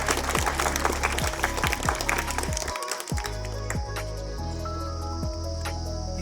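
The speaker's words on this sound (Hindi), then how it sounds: "इनके लिए जोरदार ताली बजाएं आप" A crowd at a school block-level sports competition claps for the winner of a sub-junior 600-metre race, a burst of applause in the first few seconds that fades out over a steady tonal hum.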